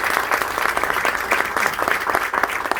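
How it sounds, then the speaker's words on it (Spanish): An audience at a 57th anniversary gathering applauds a speaker, with loud, steady, close clapping that continues unbroken for nearly three seconds. "Otro fuerte aplauso para don Fafa Tavera"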